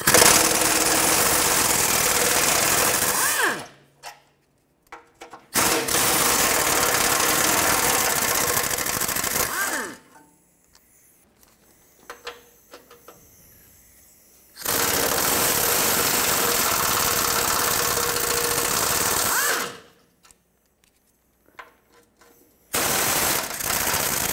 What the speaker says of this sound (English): I'm going to take off the 4 side bolts first, and then the ones down at the bottom.